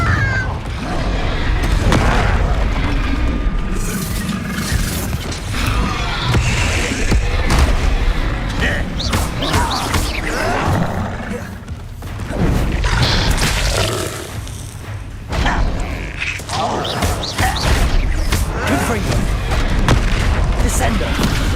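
Confringo fire spell explosions in the game Hogwarts Legacy, repeated loud booming blasts and crackling magic effects over busy game sound, with a voice speaking over the action.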